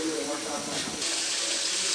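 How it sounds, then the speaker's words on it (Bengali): Water is poured into a pot of fried rice for a raw jackfruit biryani, making a steady rushing splash with a hot hiss rising as it hits, close and loud throughout. "এখন এখানে আমি পানি অ্যাড করে দেব"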